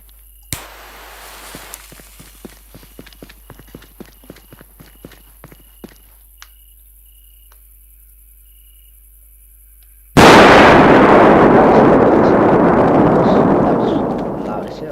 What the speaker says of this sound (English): We'll take the XXL firecracker small red white barrel.